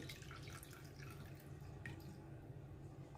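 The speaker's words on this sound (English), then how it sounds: "Then I will be pouring some amount of water into the little bowl" Water trickles and splashes softly into a small container, a faint, continuous pouring sound at low volume.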